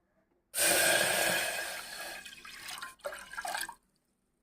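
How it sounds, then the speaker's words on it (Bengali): Water is poured into mung dal for boiling, a close, strong splashing gush lasting about three seconds with a short break before a final trickle, with no talk. "ডালটাতে জল দিয়ে দেবো"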